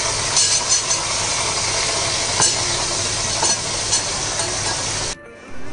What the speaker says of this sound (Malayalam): നമ്മൾ ബാക്കി ഇരിക്കുന്ന വഴുതനങ്ങയും കൂടെ നമ്മളതിലേക്ക് വറുത്ത് കോരുകയാണ്